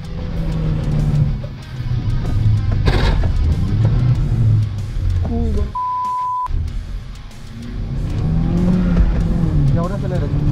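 A rally car accelerates hard along a dirt course, its engine roaring loud and close through rising and falling revs with a brief beep, while excited voices talk over it.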